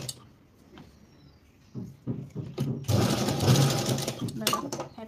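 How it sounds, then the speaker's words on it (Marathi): A sewing machine stitches blouse fabric, starting with a few slow clicks and then a loud, steady whirring run, close up, while someone talks. "आपण एक शिलाई अर्धा इंच थोडासा गॅप ठेवून मारून घेतली दोन्ही बाजूनं"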